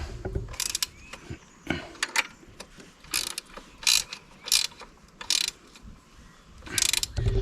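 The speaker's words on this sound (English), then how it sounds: "A ratchet wrench will really help you to make that happen better, faster." Ratchet wrench loosening 17 mm frame bolts on a back axle, heard as repeated bursts of sharp pawl clicking separated by short pauses, fairly close and loud with no talking.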